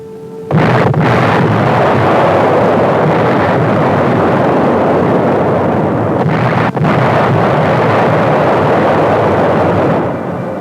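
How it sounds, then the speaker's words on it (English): Artillery fire pounding German-held San Pietro during the WWII Italian campaign: a sudden loud, sustained roar of blasts and rumble that starts abruptly and continues almost unbroken, with a brief dip midway, no voices. "San Pietro, like dozens of other German-held towns, was caught in a tight net of artillery fire."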